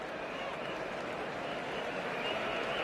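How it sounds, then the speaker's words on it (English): A stadium crowd at a New Zealand v South Africa T20 cricket match applauds a local batsman, a faint, distant, even rumble of clapping and crowd noise. "Big round of applause for the local boy"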